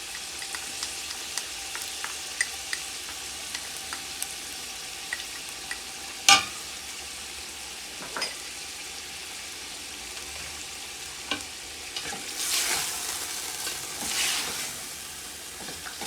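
Garlic and ginger fry in a pan for chicken korma, a low, steady sizzle broken by occasional clinks and scrapes of stirring, with a louder hiss swelling near the end.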